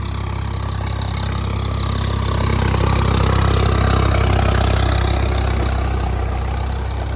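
A Swaraj 855 tractor engine runs steadily on its own, a loud, close, continuous low diesel throb that swells slightly midway and has no pauses or speech.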